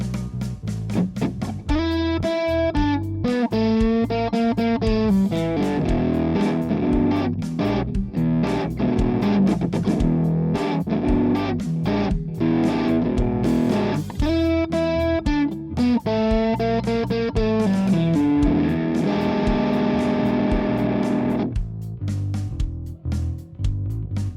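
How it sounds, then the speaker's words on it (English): Electric guitar driven through a chain of stock plugins emulating a Boss DS-1 distortion pedal, playing loud, continuous saturated chords and riffs with a brief pause near the end. "So here's our DS1 signal chain using only stock plugins."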